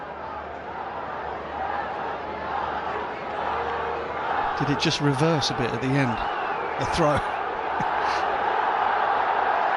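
Crowd noise fills a cricket stadium during a Lahore Qalandars versus Multan Sultans PSL match, a dense, steady roar that rises and swells under two commentators.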